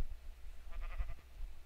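A sheep in a blocky Minecraft-style hardcore survival game gives a single short wavering bleat, faint and slightly distant over low rumbling background, with no voices.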